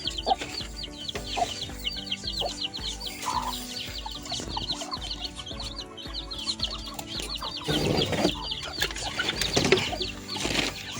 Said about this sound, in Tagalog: Ito, mga ano rin to, native na manok din to. Mga sisiw.